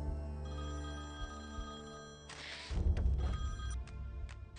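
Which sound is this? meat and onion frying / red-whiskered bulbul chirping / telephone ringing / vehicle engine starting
telephone ringing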